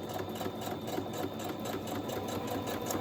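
A sewing machine stitching through a paper envelope, running in a fast, even mechanical chatter of needle strokes for a few seconds, close and continuous with no voices.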